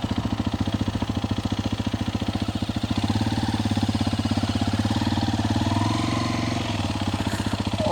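A motorcycle engine idles nearby with a steady, fast, even putter that holds a constant pace throughout, loud and unaccompanied by voices.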